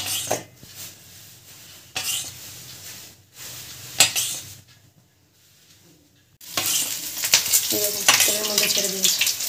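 Chicken kathi kebabs being fried in hot oil, with intermittent clinks of utensils and pan knocks early on, a brief quiet gap, then a loud, sustained sizzle as the pieces go into the oil.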